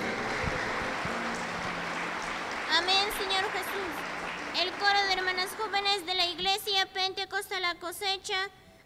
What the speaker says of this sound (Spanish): Lo recibimos con fuerte aplauso contento para Jesús.